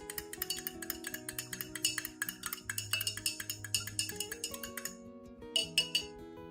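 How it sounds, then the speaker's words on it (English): Spoon stirring coffee grounds into clean water: a rapid, steady run of bright clinks against the container for about five seconds, then a short pause and a few final taps, close and fairly quiet. "You have to stir well."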